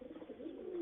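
Racing pigeons give soft, low, rolling coos close by, a brief, quiet murmur with no other sound.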